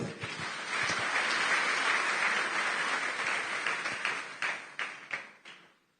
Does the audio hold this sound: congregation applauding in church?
yes